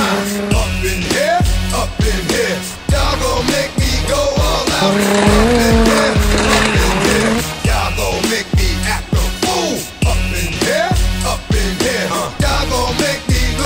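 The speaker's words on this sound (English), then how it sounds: "Brian's Hot Wheels Fast and the Furious Eclipse takes on Jesse's Volkswagen Jetta" Race car engine revs and squealing tires play continuously and loudly over a Hot Wheels toy race between a Fast and the Furious Eclipse and a Volkswagen Jetta, with rising and falling engine pitches throughout.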